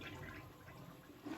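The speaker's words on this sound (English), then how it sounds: "And then give your toilet a flush." A toilet flushing after cleaning, a brief steady rush of swirling water that swells slightly at the end, quiet and with no voices.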